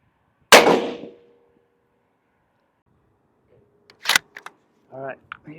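A single sharp rifle report from a Tikka T3x, fired at a half-gallon jug of Kool-Aid, cracks out loudly and then decays quickly, followed by a second brief clack and someone speaking afterward.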